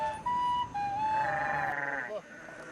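A sheep bleats twice in quick succession, a loud, close, wavering cry that rises and then drops off sharply.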